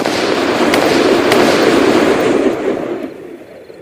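Gunfire in a Thai audio drama rings out as a dense, loud crackle of rapid shots and bursts that keeps going for several seconds, then tails off into quieter echoes.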